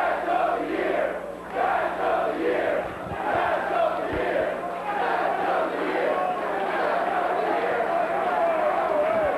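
A large wrestling crowd roars and chants continuously in a big arena, with rhythmic shouting rising and falling, and a few thuds underneath.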